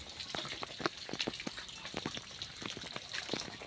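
Quiet, irregular drips and small splashes of water from a leaking tap, close by, falling one after another against a soft background hiss.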